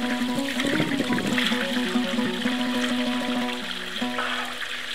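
Spring water trickling and splashing at a roadside spring in Kazakhstan, a steady close flow with a low tonal hum running beneath it.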